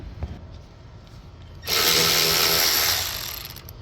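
A socket tool loosens carburetor screws on a TB 110 lawnmower, giving one close, loud, steady whirring burst of about a second and a half after a quiet start, with no talking.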